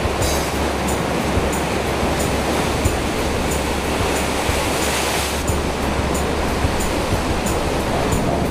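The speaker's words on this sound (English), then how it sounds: "to see the big king waves that make the Quabba blowholes so impressive" Big king waves crash and surge at the Quabba blowholes on the Outback Coast north of Carnarvon, a steady, loud roar of surf filling the whole stretch with no voices.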